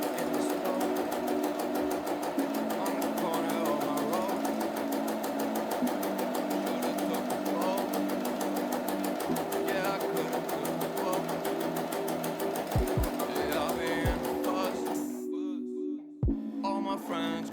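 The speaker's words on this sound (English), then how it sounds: "You can now start sewing." An Empisal Expression 889 sewing machine stitches continuously with a fast, even mechanical whir and rapid needle ticking, fairly close, under background music, stopping near the end with a couple of soft clunks.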